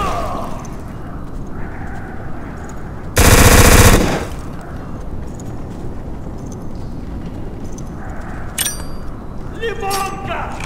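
Machine gun fire in the video game Black, heard as one loud sustained burst of rapid shots among game noise, with a few sharp metallic clinks and a shouting voice nearby.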